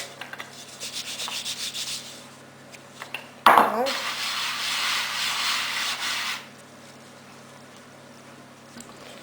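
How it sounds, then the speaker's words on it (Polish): A rolling pin rubs and rumbles steadily across gingerbread cookie dough on a floured board, with a brief thump partway through before the rolling stops. Faint room noise follows. "rozwałkowuję ciasto nic prostszego"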